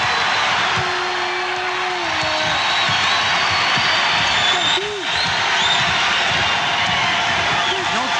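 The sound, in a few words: basketball crowd cheering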